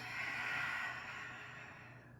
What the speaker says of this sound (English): Open mouth exhales if you want.